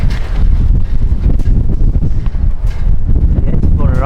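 Strong storm wind gusting around a CB base antenna, heavy rumbling wind noise buffeting the microphone throughout, with a voice briefly heard at the end.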